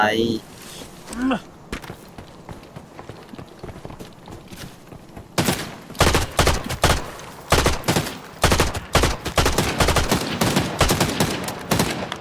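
Gunfire in the video game Arena Breakout: Infinite rattles in rapid bursts and single shots, loud and close, with footsteps and voices talking in between.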